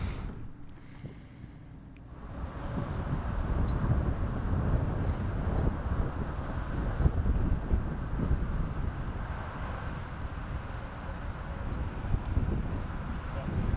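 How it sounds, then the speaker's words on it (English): Strong wind blows across an outdoor disc golf course, a steady broad roar with gusts buffeting the microphone throughout, loud and continuous after a brief quieter start. "But that wind is blowing hard."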